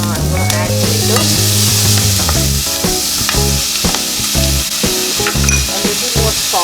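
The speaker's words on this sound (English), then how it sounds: "Onions are slightly brown. I'm going to add tomatoes." Onions and tomatoes fry and get stirred in a pan for a paneer butter masala, a steady close sizzle with scraping stirs throughout and background music playing underneath.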